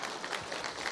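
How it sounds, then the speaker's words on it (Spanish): A church conference audience gives a brief, steady round of applause for a good question, soft and diffuse, as if heard from a little distance. "Muy buena, un aplauso"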